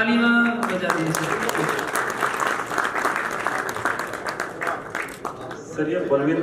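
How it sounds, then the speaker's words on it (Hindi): An audience claps at an agricultural fair in Shamgarh, giving a full, continuous round of applause that lasts several seconds while a voice speaks over it. "तालियां बजा दीजिए"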